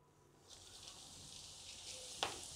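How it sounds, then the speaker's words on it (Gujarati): Hot oil sizzles as it is poured for tempering spices and asafoetida into gunda pickle, a faint, short hiss rising after a quiet start with a small crackle near the end. "આ વઘાર કરીએ અને સુગંધ બહુ સરસ આવે છે અથાણાનો."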